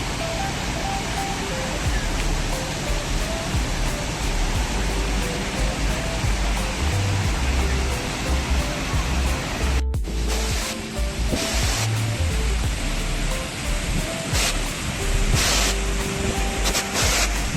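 Banjhakri waterfall in Sikkim pours in a steady, broadband rush of falling water, continuous and fairly loud throughout with no voices over it.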